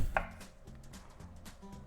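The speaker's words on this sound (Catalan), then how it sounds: "mentre vas tallant la patata" A knife chops a potato on a cutting board in a kitchen, one sharp cut followed by a steady run of soft, rhythmic knocks, close and quiet with no talk.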